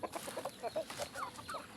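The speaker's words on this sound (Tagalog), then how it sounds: "Alaga nating hayop, mga manok." Backyard chickens cluck in a rural countryside setting, a steady run of overlapping soft clucks from a few birds, faint and fairly close.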